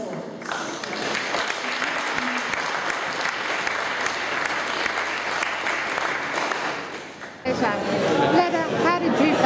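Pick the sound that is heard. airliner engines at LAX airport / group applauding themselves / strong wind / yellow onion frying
group applauding themselves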